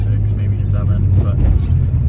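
A Honda Civic EK coupe being driven, with a steady engine and road rumble from inside the cabin as gears are shifted, people talking over it.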